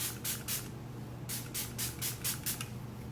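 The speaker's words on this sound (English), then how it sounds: "Now I gotta spray the other side," Setting spray misted onto the face, heard as two quick clusters of close, airy hissing pumps, a pair and then a run of four or five rapid bursts, over a low steady hum.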